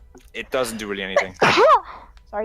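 A single sharp sneeze bursts out in the middle of a casual tabletop role-playing session, with people talking just before and after it.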